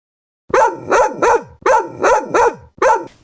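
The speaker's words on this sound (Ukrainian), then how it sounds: "Ось так кажуть собаки. Гав-гав-гав." Cartoon dogs bark in a children's animation, a family of father dog, mother dog and three puppies, giving six loud, close barks in two groups of three with short gaps and no talk over them.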